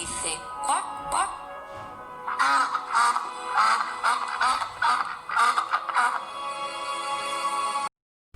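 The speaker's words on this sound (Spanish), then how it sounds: "Dice cuac, cuac." A duck quacks in a quick series of loud, nasal calls, close and clear, with a few lone quacks first and then a denser run before it stops abruptly.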